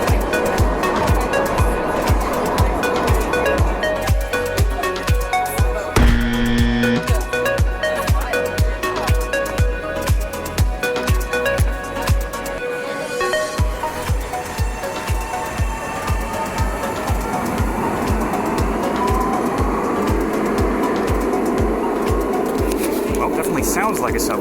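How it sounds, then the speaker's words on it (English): Ottawa LRT light rail train running with a regular rhythmic clatter over the track, a rising electric motor whine building through the middle, and people talking throughout. "Sounds like a subway, so they got that part figured out. Nice big electric motor spinning up sound."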